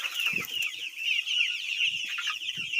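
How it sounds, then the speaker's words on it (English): A flock of Rhode Island Red chickens clucks and chatters continuously, a dense layer of overlapping calls with a few low grunting clucks, close and steady without speech. "just to have Rhode Island Reds in with our flock of egg layers that we have"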